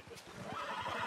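A horse neighing in Red Dead Redemption 2, a rising whinny over hoof clip-clops, close and growing louder, with a voice speaking faintly underneath.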